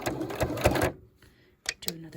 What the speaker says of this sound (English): now I'm just gonna do a couple back stitches to make sure that that pleat is secure, and I'm sewing right here on the edge